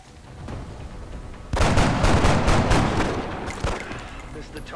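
Bursts of gunfire and pistol shots from a turn-based alien combat game, XCOM: Enemy Unknown on hardest difficulty, a quiet lead-in then a loud cluster of sharp cracks followed by a few scattered shots under game ambience.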